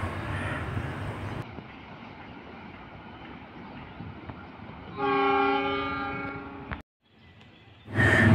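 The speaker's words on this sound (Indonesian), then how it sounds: "Ini dia kereta api Katel ataupun kereta api Gamau Tanker." A tanker freight train rolls past steadily with low rumbling wheels, then a loud sustained horn blast sounds, a brief drop to quiet, and a renewed rush of noise at the end.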